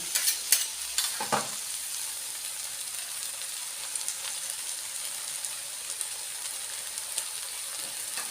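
Vegetables stir-fry for pad see ew in a hot pan, with a continuous close hiss of oil and a few sharp utensil scrapes near the start.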